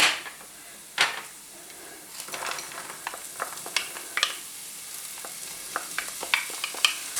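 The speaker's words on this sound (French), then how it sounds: "Donc, on va faire revenir nos légumes." Vegetables sautéing in a pan for a tuna or vegetable brick filling, with a soft steady sizzle broken by scattered clicks and scrapes of a spoon stirring, close and fairly quiet, with no voices.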